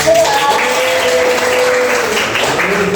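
A classroom of pupils in a microteaching lesson bursts into loud, close applause, with voices calling out over the steady clapping for the full few seconds.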